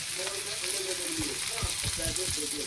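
Vegetables sizzle steadily in a pan as turmeric and spice powders go in, a close crackling fry with soft stirring scrapes and bubbling pops coming through, and no talk.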